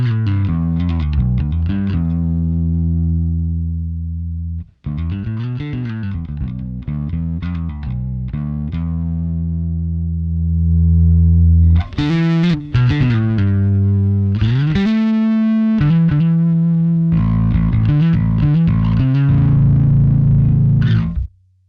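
Bass guitar played through a Fender Rumble 40 amp with the overdrive engaged, giving a loud, gritty, distorted tone across a run of riffs and sustained notes with a brief pause early on, no talking.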